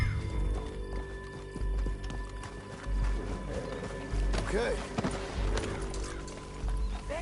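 Horse hooves clop rapidly in a steady galloping rhythm in Red Dead Redemption 2, with a horse whinny and a man's brief speech over the hoofbeats.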